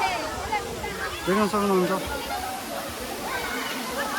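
Gajeri waterfall in Kailali, a steady rushing roar of falling water heard amid a crowded tourist spot, with people talking and chattering over it throughout.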